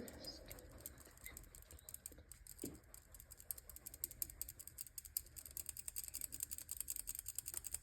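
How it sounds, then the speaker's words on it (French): Flour mixed with baking powder is sifted for shortbread, giving a quiet, fast, ratcheting tick of the sifter mechanism that grows denser and slightly louder toward the end, heard close up. "Du coup, on va le tamiser."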